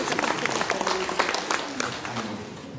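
Applause from an audience at a community gathering, a short burst of dense clapping with talk and voices running beneath it throughout.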